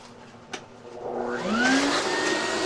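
A shop vacuum hooked through an adapter to a bandsaw's dust port starts up and climbs into a steady, rising whine, then holds a loud continuous suction roar with no talking.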